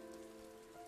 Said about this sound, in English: Just the sound of the rain is so calming after all of this.